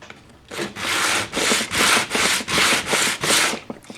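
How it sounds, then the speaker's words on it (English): A curved wooden moulding is rubbed back and forth on a flat sheet of sandpaper, making about seven steady, evenly spaced rasping strokes that sound loud and close, with no voices. "you can rub that backwards and forwards on a flat piece of sandpaper"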